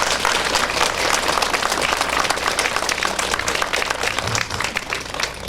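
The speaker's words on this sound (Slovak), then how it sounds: "jedna veľká vďaka, jedna veľká auto, jeden veľký potlesk pre vás" An audience claps at a fire truck handover ceremony, with dense, sustained applause from a crowd that stays loud throughout and thins slightly at the end.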